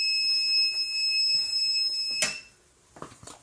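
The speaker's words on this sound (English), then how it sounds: "That was my new press going off." A new card press machine sounds its alarm as a steady high-pitched electronic tone that holds for about two seconds, then cuts off sharply with a click, followed by faint handling noise.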